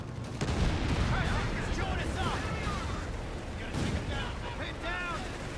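In a Company of Heroes 3 battle, an anti-tank gun and artillery fire in dense, repeated booms and gunfire over a continuous rumble, with someone talking over the action throughout.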